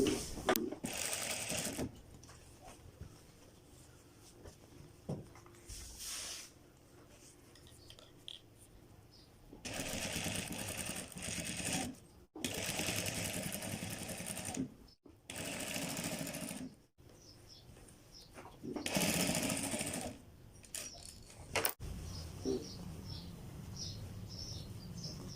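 A sewing machine stitches fabric for a high-neck kurta in bursts of rapid whirring, starting and stopping repeatedly with quiet pauses between runs, close by.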